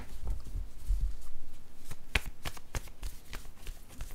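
Tarot cards being shuffled and drawn up close, a steady papery riffling followed by a series of sharp separate snaps as cards are pulled, with no talk over it.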